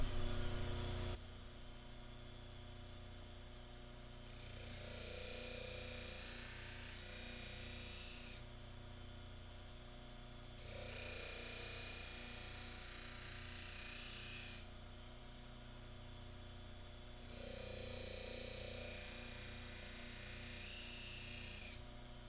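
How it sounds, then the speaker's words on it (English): A leather stropping wheel polishing a knife edge to a mirror finish, a steady motor hum under three long bursts of bright rasping friction as the blade is pressed on and lifted off, fairly close and without talk. "What I'm going to do now is try to get a mirror finish with this leather wheel."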